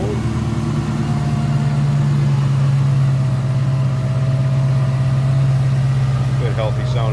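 A 1999 Ford Mustang GT coupe engine idles steadily and loudly up close, a constant low rumble holding even throughout with no revving.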